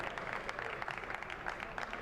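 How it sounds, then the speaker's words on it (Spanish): Football spectators applaud in a stadium during an Athletic Juvenil A versus Málaga CF youth cup match as injured players recover; a steady, fairly distant patter of clapping with a few sharper claps, continuous and moderately quiet. "Los aplausos del público una vez se recuperan los tres protagonistas de esta desafortunada acción."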